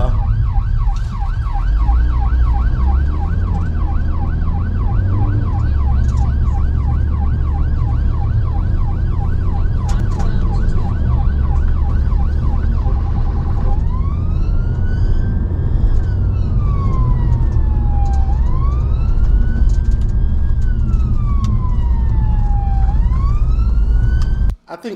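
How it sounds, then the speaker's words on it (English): An ambulance siren sounds in motorway rush-hour traffic, first a rapid pulsing yelp and then a slower rising and falling wail, loud and continuous over steady road noise, with no talk over it. "this is an ambulance, EMS, right?"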